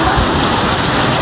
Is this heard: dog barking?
no